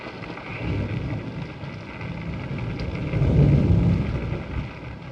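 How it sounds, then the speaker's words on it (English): Rain falls steadily through a night scene in a 1941 black-and-white film, with a low rolling thunder rumble that swells midway and then fades. No one speaks. "It's raining."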